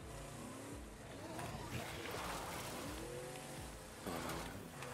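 A car engine drones continuously in the zombie survival game State of Decay 2, swelling and easing as it drives along, heard close and steady while someone talks over it.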